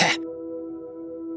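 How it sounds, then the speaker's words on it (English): A single loud cough bursts out at the start, then gives way to a steady hum lingering in the room. "lets out a loud cough"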